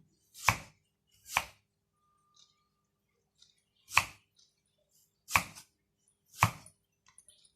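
A knife thinly slices raw bamboo shoots on a board in five separate strokes with pauses between, close up and fairly loud, with faint clicks in between.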